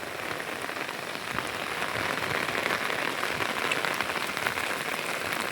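Steady rain pours down outdoors during a rainy outing, a dense, continuous patter on surfaces that holds at a close, even loudness throughout with no voices.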